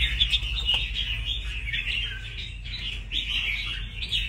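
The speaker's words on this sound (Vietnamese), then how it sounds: "con phía sau thì ra giọng kép liên tục luôn anh em ạ" Caged red-whiskered bulbuls, freshly trapped wild birds, call steadily with bright, repeated chirps and doubled song phrases, close and fairly loud over a low background hum, with no voices.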